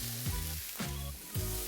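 Finely chopped mushrooms sizzle in plenty of oil in a pan, a close crackling hiss interrupted by a few quick stirring scrapes.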